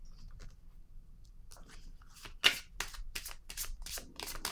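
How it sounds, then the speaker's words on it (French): Playing cards being drawn from a deck, a run of crisp close flicks and slides of card stock that grow busier toward the end against a quiet background. "Je vais piger une carte ici."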